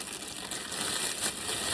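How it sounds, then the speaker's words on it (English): Close, crisp crinkling of a plastic bag, irregular rustles that grow busier toward the end, with no talking. "then I'm going to grab a plastic bag"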